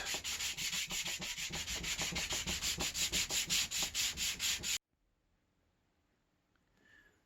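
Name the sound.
sanding stick on wood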